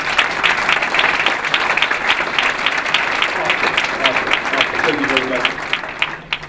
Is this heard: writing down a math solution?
no